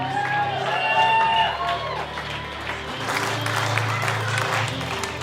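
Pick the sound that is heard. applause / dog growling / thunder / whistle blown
applause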